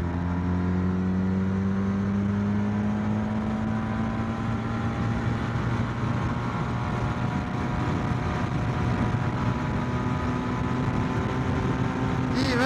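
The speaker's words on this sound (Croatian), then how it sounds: "Kako ovo Honda lijepo prima gas." A Honda VFR 1200 Crosstourer V4 motorcycle accelerates, its engine note climbing steadily and loud throughout, with a continuous road and wind rush underneath.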